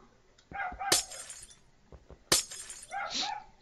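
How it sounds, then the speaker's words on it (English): Glass blocks shattering in Minecraft, two sharp crashes about a second and a half apart, each followed by short tinkling debris, loud and close with no talk. "See, regular glass breaks,"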